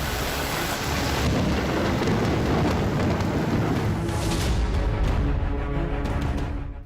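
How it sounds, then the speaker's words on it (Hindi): Heavy monsoon downpour in Mumbai, a loud, dense roar of rain hitting surfaces with deep rumbling underneath, continuous and close throughout. "मुंबई में मूसलाधार बरसात शुरू हो चुकी है"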